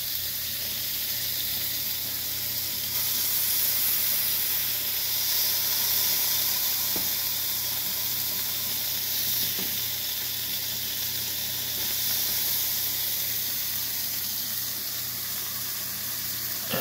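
Burgers fry in a pan with a steady, loud, dense sizzle and hiss that runs unbroken throughout, with only faint small pops on top.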